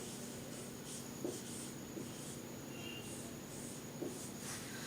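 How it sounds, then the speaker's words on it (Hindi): Handwriting on paper in Hindi script, heard as faint, quiet pen scratches in short strokes with pauses between them, over a low steady background hum and no talking. "हम इसको हिंदी में इस तरह से लिखेंगे"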